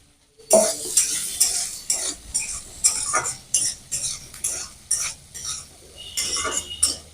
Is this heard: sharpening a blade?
no